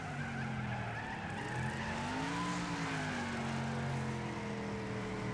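Racing cars roar through a two-lap video game race, a sustained engine drone with rising and falling pitch and squealing tyres skidding, continuous and loud.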